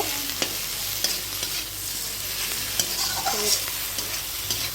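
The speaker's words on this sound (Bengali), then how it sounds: "একটু দেখুন আমি শিমগুলিকে নাড়াচাড়া করে নিচ্ছি, ভালো করে নাড়াচাড়া করব।" Green beans stirred and fried in a pan with onion, garlic and spice paste: steady close sizzle with scraping spatula strokes and occasional sharper clacks against the pan, no talk.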